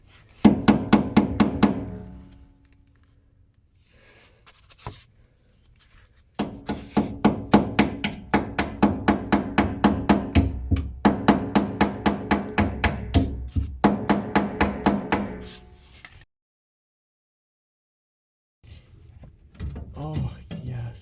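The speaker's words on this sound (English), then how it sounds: "I'm going to try going at it with a chisel and a hammer, and hopefully we can get them out that way." Hammer blows strike a chisel against the fuel pump screws of a Skyactiv Mazda, coming in fast rhythmic bursts of sharp metallic knocks separated by short pauses, close and loud.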